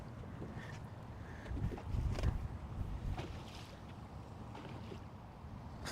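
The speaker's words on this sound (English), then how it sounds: "The wind is kicking up" Wind gusting over Lake Guntersville from a boat, buffeting the microphone with rough rumbling bursts that swell in the middle and settle to a steady rush.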